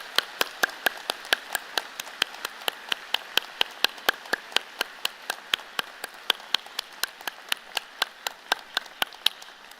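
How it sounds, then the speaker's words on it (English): Sparse, steady clapping at a University of Toronto Mississauga spring convocation for science graduates, sounding like a few pairs of hands striking in a regular, evenly spaced rhythm rather than a full crowd. "join me and the platform party in thanking those friends and family with a very vigorous round of applause"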